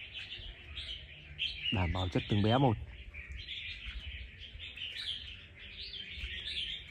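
Red-whiskered bulbuls, wild-caught birds, chirping in quick high bursts throughout, while someone talks loudly over them for a couple of seconds.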